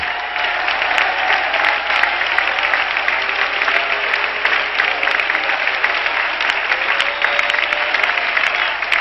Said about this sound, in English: Come on, clap your hands again.